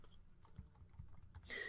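Keys clatter on a computer keyboard, a handful of soft, irregular taps spread across a short stretch, fairly close and quiet, with no talk over them.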